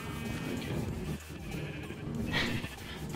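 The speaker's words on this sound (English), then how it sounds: "As you can see, Bob is not having much luck with it, with these sheep" Sheep in a Minecraft pen bleat in short nasal calls, several overlapping over a few seconds, fairly close and clear over quiet game ambience.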